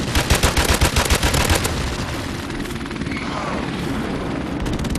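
Rapid thudding helicopter rotor chop in a Modern Warfare Remastered match, loud and close, with a burst of rattling gunfire at the start before settling into a steady engine drone.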